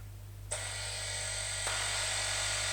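A pneumatic air hammer breaks welds on a leaf spring bracket of a Mercedes 410D, kicking in after a quiet moment as a loud, continuous high-pitched buzzing rattle that holds steady to the end.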